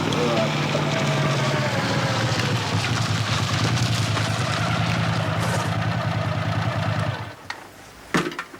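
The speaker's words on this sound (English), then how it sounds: "I reckon I've heard that cracked muffler somewhere before." A car engine with a cracked muffler runs steadily and fairly loud with a rough, low rumble for about seven seconds, then cuts off, leaving a few faint knocks.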